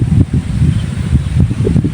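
Strong gusting wind buffets an outdoor fishing spot, a steady low roar with rising and falling surges across the whole stretch, rumbling on the microphone, with no voices.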